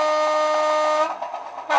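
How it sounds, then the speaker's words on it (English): A Bachmann class 205 Thumper DEMU model train, an English Electric Southern unit, sounds a slightly wonky two-tone horn: a steady tone that shifts pitch about halfway, wavers, then jumps back up, heard alone and close. "Bit of a wonky horn, which is common with the English Electric Southern units"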